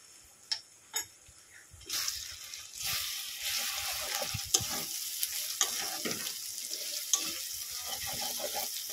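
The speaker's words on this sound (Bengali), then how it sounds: "ভালো করে মশলাটাকে কষিয়ে নেব।" Ground spices, including turmeric, cumin and coriander powder, sizzle steadily in a pan for a meat curry, with close clinks and scrapes from stirring over the continuous frying hiss.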